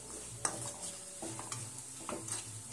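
A besan (gram flour) mixture is sautéed and roasted in a pan. Scraping stirs come at irregular intervals over a quiet, low sizzle.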